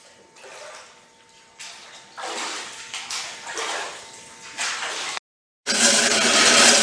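Water drains from a bathtub in uneven gurgling, rushing surges that rise and fall, cut off by a brief silence before a louder steady rush.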